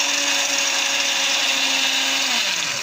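A kitchen blender grinds ground sesame seeds with oil in a steady, loud motor whine with a harsh whirring edge, its pitch sagging slightly at the end as the blades slow.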